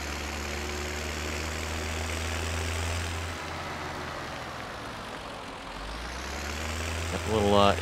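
A Farmall 806 tractor engine idles steadily in Farming Simulator 17, a constant low drone with harmonic hum throughout, with a brief rising rev near the end and voices talking over it.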